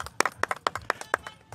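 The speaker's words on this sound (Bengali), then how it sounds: "হাততালি আমার।" A small group of riders claps for the winner of a slow ride race at an event beyond Jamuna Bridge in Bangladesh, a short burst of brisk, uneven handclaps that ends quickly.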